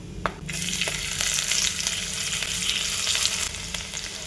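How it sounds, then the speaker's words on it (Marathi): Finely chopped garlic tipped into roasted spices for Kolhapuri whole masoor flares into a loud, close frying hiss, which holds for about three seconds and then dies down. "आता थोडासा मसाला भाजला की त्यामध्ये मी लसूण टाकणार आहे जो आपण बारीक चिरून घेतला होता"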